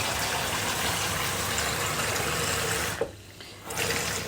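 Warm water runs steadily from a tap into a sink, a continuous broad rushing gush that cuts off abruptly near the end, leaving a brief quieter stretch before flow resumes.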